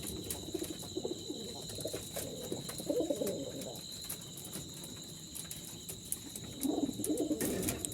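Jalali pigeons kept in baskets coo in soft, low bursts that come and go, fairly faint, over a constant high insect-like drone.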